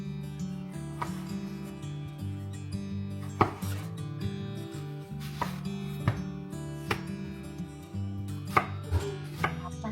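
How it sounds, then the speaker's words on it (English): Vegetables being chopped with a knife on a kitchen counter, a steady series of close, crisp blade taps on the board, loud and unhurried, with no talking. "I took over, chopping vegetables"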